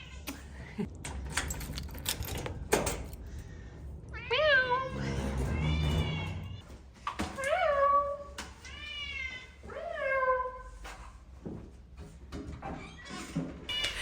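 Several pet cats meow insistently before being fed in a home kitchen, with a run of loud, rising and falling meows in close succession, separate calls spaced a second or two apart, and brief clatters and knocks between them.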